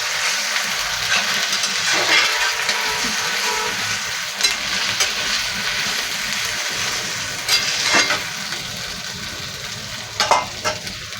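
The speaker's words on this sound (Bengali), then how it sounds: "একটু ভেজে নেব।" Meat frying in a pan, a continuous hissing sizzle with occasional scraping stirs and louder crackles, steady and close with no talk.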